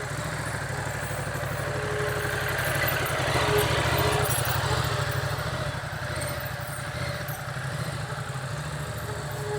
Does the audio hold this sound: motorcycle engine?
yes